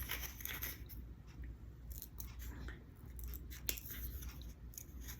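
Scissors cut through a traced paper template for a guitar nail in a few short snipping and scraping strokes, close and quiet over steady background noise.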